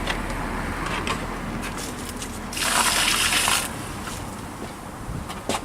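Water gushes and splashes out of a car heater core being flushed, running steadily and clear, with a brief louder surge midway, under a low background hum.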